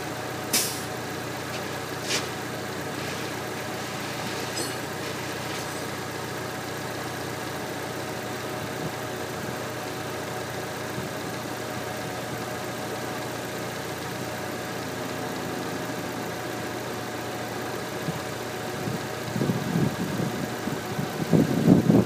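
A 2000 Honda Civic with a 1.6-litre engine idles steadily at close range, a low even hum throughout, revving slightly near the end, with no speech.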